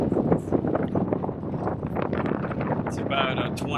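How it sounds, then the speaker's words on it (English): Strong wind of about 16 to 18 miles an hour gusts steadily over Little Lake John while a fishing boat drifts, a rough broadband rush buffeting the microphone throughout, with a faint voice speaking underneath. "That wind done picked up to about 16, 18 miles an hour"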